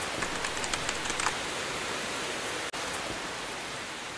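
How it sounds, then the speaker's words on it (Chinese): Heavy rain pours down outside a building while people shelter under the eaves, a dense, steady hiss of water that stays even throughout with a few brief patters near the start. "突然外面下起了瓢泼大雨"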